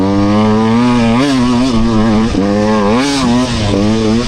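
A small-bore dirt bike ridden hard around a race track, its engine loud and close, revving and shifting pitch continuously with brief dips between throttle bursts.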